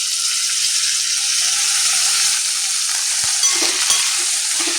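Eggplant sizzling steadily in a pan for a spiced vegetable dish, a continuous close hiss with a few faint scraping stirs near the end and no talk.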